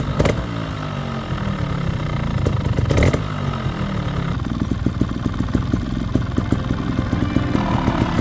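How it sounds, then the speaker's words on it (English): A motorcycle engine with freshly repaired main bearings runs steadily nearby, idling with a rhythmic mechanical clatter and occasional revs, without any talking. "it sounds like a pretty healthy engine"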